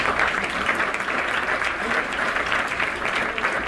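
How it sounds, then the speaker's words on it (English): Dense round of crowd applause for Miss Maui pageant contestants, loud and sustained throughout the short stretch. "So let's give all of our contestants a round of applause."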